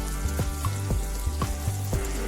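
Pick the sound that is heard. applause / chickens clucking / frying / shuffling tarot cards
frying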